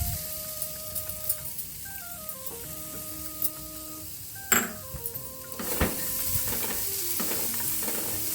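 Grated coconut and curry leaves sauté in a pan with a soft, continuous sizzle, while a spatula scrapes and taps the metal in irregular strokes and a louder clatter comes midway.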